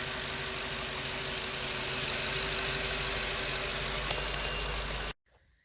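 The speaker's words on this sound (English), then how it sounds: "Fairly quiet, smooth engine." An 8.1 Vortec V8 in a motorhome idles smoothly and steadily with no fan blade fitted, a constant close hum with a low rumble, cutting off abruptly before a brief click.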